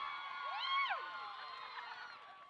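Football crowd at a high-school game, a distant mass of voices with a brief rising whoop-like swell before settling into a steady murmur.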